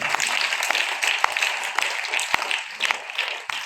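A church congregation applauding the Lord at a worship service, a steady, fairly dense wash of hand clapping with a few sharper individual claps standing out, heard without other sound for several seconds.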